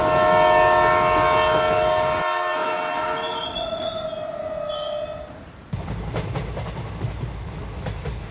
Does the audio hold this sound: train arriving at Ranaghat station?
yes